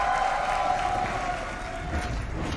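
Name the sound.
audience applause in an esports arena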